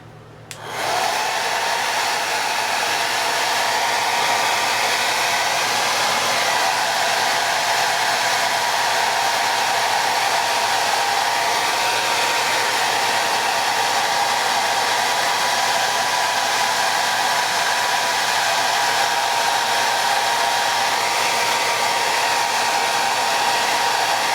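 A hair dryer blows continuously at close range onto a scale model part, a steady loud whooshing hum that starts abruptly and holds without change.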